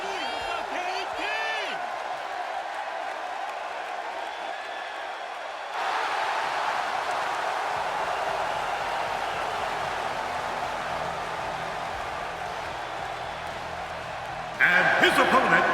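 Capacity arena crowd in the WWE 2K16 wrestling game, a steady loud roar of cheering and applause throughout, swelling louder near the end, with a commentator talking over it.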